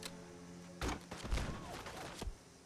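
Regular grenades exploding in Fallout 4, a few muffled booming blasts with low thuds and crackling debris, the first sharp burst followed by rumbling aftershocks and a final thump, moderately distant over a faint background hum.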